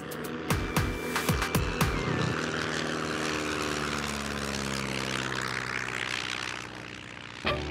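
A biplane's propeller engine opens with a few sharp pulsing beats, then settles into a loud, steady droning hum that holds for several seconds, with no voices.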